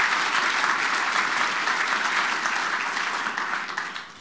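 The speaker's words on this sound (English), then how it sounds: "So give another round of applause." A crowd gives a round of applause at an outdoor awards program on a golf green, steady and full-bodied clapping that holds even for several seconds before slowly easing off, heard alone without voices.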